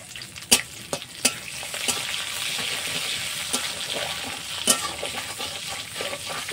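Split green chillies, dried red chillies, bay leaf, panch phoron and radhuni sputter in hot oil, giving a close, continuous sizzle punctuated by several sharp crackling pops.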